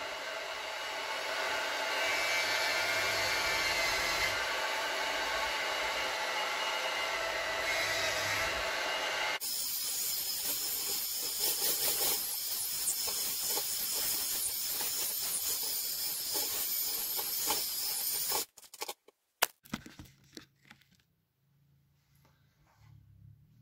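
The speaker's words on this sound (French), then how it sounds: "J'allume le mixeur sur la vitesse minimale." An electric mixer runs at its lowest speed, kneading dough for a butter braid. It gives a steady, close whirring hiss for about eighteen seconds, then cuts off, leaving a few faint clicks and handling noises.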